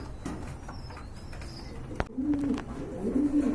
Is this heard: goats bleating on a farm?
no